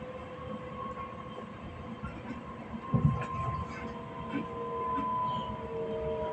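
Trains on the Westbahn line near Eichgraben, a steady rumbling roll with long tonal hums and a brief louder clatter midway, heard from close by outdoors with no talk.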